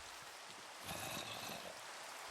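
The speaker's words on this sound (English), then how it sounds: "It's raining. Of course it is." Rain falling in a video game, a soft steady hiss of pouring water that swells briefly in the middle, quiet and continuous with no voices.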